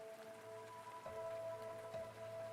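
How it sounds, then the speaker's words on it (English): Rain in the video game Arknights falls as a steady patter, with soft drops over sustained tonal notes, moderately quiet and with no voices. "The rain caresses her palms."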